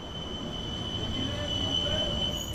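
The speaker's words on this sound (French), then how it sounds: "À 13h, on assiste à l'arrivée du métro express." A Metro Express train arrives at Phoenix station on the inaugural commercial run of the Rose-Hill–Phoenix line, heard as a steady rolling rumble with a sustained high squeal of wheels, fairly close and constant.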